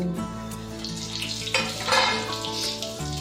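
Cumin seeds, cardamom and bay leaf frying in hot oil in a pan, a steady close sizzle with a brief stir or clink partway through, loud and continuous without speech.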